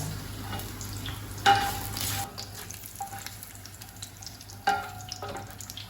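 Red kapya peppers sauté in olive oil with a soft, steady sizzle, broken by a few sharp clatters of stirring, and no voices.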